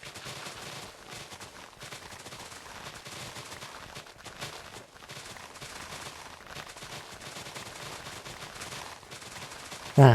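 An automatic turret fires in a survival video game, a continuous dense rattle of rapid shots that stays steady and fairly loud, with a sharp louder spike at the very end.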